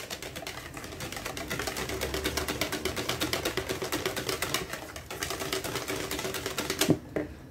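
Brioche dough is being mixed, making a rapid, even, clattering rhythm of quick ticks and slaps that runs for about seven seconds before a final knock.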